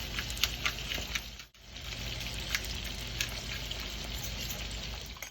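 Chicken strips sizzle quietly in a pan, a continuous faint frying hiss with small crackles and a brief stir or clink partway through, without talk.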